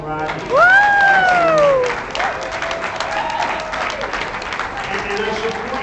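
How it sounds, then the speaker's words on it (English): An audience breaks into loud applause and cheering for a performer at a live event, with a whoop rising over steady clapping that holds for several seconds. "let's hear it for Marilyn Rocky"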